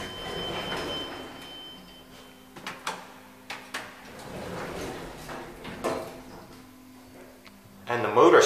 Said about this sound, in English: And the motor starts up